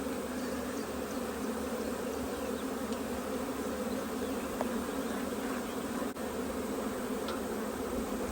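Honey bees hum constantly around a hive box in Paris, a dense, even buzz from a swarm made of several smaller ones, close and continuous with no talking.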